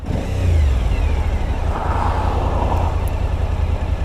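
A loud motorcycle engine revs up close, climbing quickly then holding a steady rumbling drone, with no voices.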